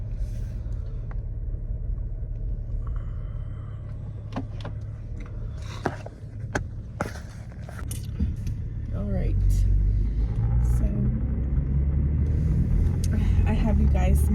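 Steady low road and engine rumble from inside a moving truck, loud and continuous throughout, rising slightly in the second half, with occasional light clicks and rattles from the cab.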